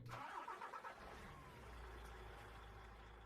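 MAN truck engine in Farming Simulator 19 cranking and catching, then settling into a steady low idle rumble, close and moderately loud with no talk.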